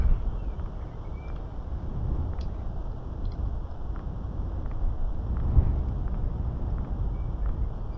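Low, steady wind ambience in the horror video game 222AM, a soft continuous rumble with faint high tones and occasional small ticks, no voices.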